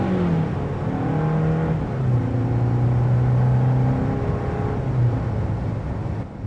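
A 2026 Hyundai Santa Cruz XRT in sport mode accelerates from a stop, its engine note rising steadily and climbing through gear changes, heard from inside the cabin at a moderate, continuous level.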